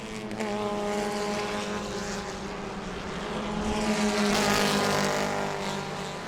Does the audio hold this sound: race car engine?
yes